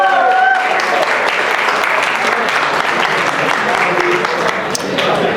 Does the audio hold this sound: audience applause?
yes